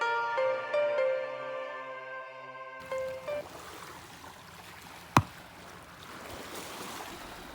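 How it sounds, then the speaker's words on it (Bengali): Monsoon-swollen Chengi River at Naniarchar, Rangamati, rushing in a broad, steady roar that begins a few seconds in after a brief tonal opening, with one sharp click partway through. "কি পানির মরমর আওয়াজ শুনতে পাচ্ছেন তো"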